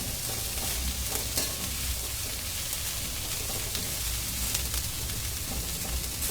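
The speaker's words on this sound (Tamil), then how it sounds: "பாவக்காவை 5 முதல் 10 நிமிடம் வரை வதக்கவும்." Sliced bitter gourd sautéing in a hot kadai for chutney, giving a loud continuous sizzle and frying hiss with occasional stirring scrapes throughout.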